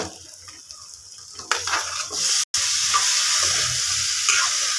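Chickpeas fry in a pan, a bright hissing sizzle with stirring scrapes that rises sharply partway through after a quieter start, broken by a brief dropout.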